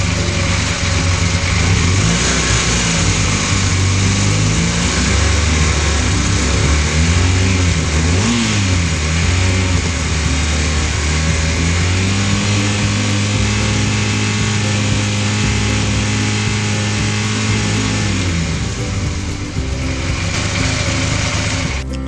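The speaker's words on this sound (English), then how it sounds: "Now if I rev it up, the voltage should go up" Motorcycle engine running steadily, then revving up and down through several throttle blips before settling back to a loud, continuous idle, close up with no talk, during a voltage regulator and rectifier charging test.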